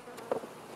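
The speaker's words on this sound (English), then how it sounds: "Look at all those bees on the underside." Faint buzzing of honey bees close by, a soft insect drone with a brief louder pass, no talking.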